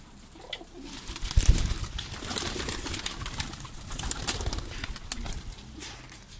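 Pigeons coo in a loft, the new bird having returned after a night away, soft repeated throaty calls rising and falling over a busy background with a couple of sharper bumps early on; no talking.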